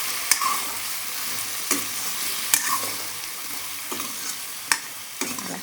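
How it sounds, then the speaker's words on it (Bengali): Potatoes fry in a sizzling pan, a steady hiss broken every second or so by sharp scrapes and knocks of a spoon stirring them, close up with no talk. "ওই দেখুন লাল লাল করিয়া বানাই আলু ভাজা"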